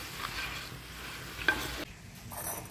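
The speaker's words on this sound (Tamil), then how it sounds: "இதை நல்லா மிக்ஸ் பண்ணி விடுங்க." A spoon stirs pepper and mandi masala in a pan for a Saudi mandi dish, soft scraping and faint sizzling, quiet and close with no talk.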